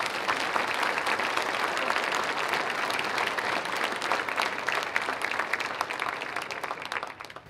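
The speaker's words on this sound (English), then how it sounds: "let's give all of them a big round of applause" Sustained audience applause at the 2019 Coeur d'Alene State of the City address, a dense, steady wash of many hands clapping throughout that tapers slightly at the end.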